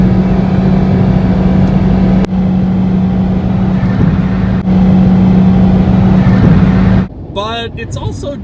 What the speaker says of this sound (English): For a small car, the Cube also makes a lot of noise. Now part of that is due to the CVT transmission.